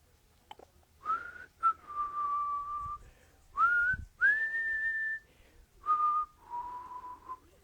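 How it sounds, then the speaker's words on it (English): A lone person whistles a simple, wandering tune during a breath meditation, with short sustained notes and brief pauses between phrases, heard close and clear against a quiet room. "And then just whistle for a moment."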